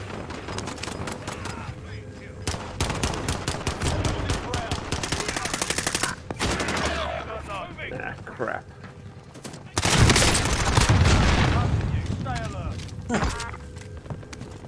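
Submachine gun fire in a video game, rapid bursts of close, loud automatic shots, with pauses between strings and a heavier, dense barrage near the end, while a voice talks at times underneath.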